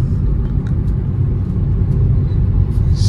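A Maruti Suzuki Fronx with a 1-litre turbo engine and manual transmission pulls away in second gear, producing a steady, loud low engine rumble throughout with no speech.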